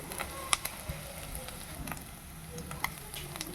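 Panch phoron five-spice, chopped ginger and chili powder sizzle in oil for a chutney, a quiet crackling fry dotted with sharp little pops and spits.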